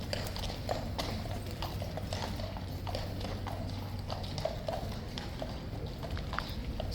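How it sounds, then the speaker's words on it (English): Several hooves of a large police horse clip-clop steadily on pavement at Horse Guards in London, a busy quick rhythm of close, crisp strikes over a low crowd murmur and a steady hum. "He's a colossus of a horse when you're up this close"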